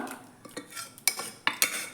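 Cooked taro stems and dal for a Kerala-style curry are scraped and spooned into a small clay pot, with a few sharp metal-on-pot clinks and soft scraping taps, close and quiet.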